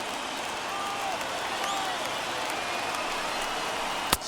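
Stadium crowd of over 39,000 cheering in the baseball video game MLB The Show, a steady broad roar with a sharp knock near the end, under faint announcer speech.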